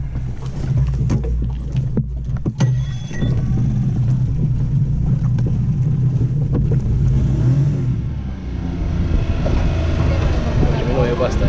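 A small boat's engine runs steadily after its propeller shaft and propeller were replaced, giving a continuous low, rumbling drone close by, with wind buffeting the microphone.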